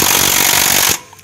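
A Milwaukee impact tool hammers on a rusted crank bolt, a loud, close, rapid buzzing rattle lasting about a second before cutting off abruptly.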